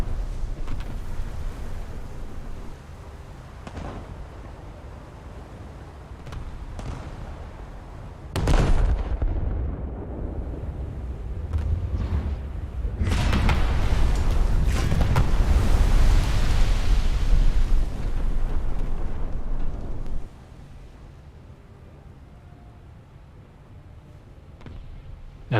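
Naval combat in a battleship video game with British battleships: scattered gunfire and booms, then a sudden heavy blast and a long roaring explosion as a turret is destroyed, fading back to a low rumble.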